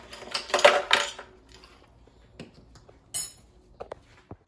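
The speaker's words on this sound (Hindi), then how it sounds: "अब इसके अंदर हम थोड़ी सी बर्फ भी ऐड कर देते हैं।" Ice cubes dropped into a raw mango and mint drink, a burst of rattling clinks against glass followed by a few scattered lighter taps, close and clear.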